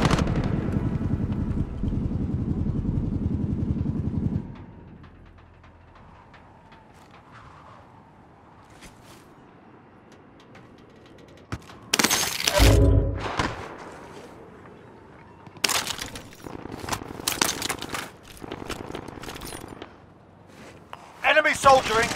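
Gunfire in Call of Duty: Modern Warfare, heard as several sharp, loud bursts and single cracks in the second half after a quieter stretch, with radio-style voices and game chatter around it.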